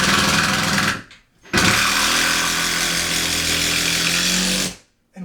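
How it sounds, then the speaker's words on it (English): A power drill drives a 4-inch screw through a header board and drywall into a wall stud, whirring loudly for a second, pausing, then running steadily for several seconds before cutting off. "we know we hit the stud because we actually hear the clutch engaging"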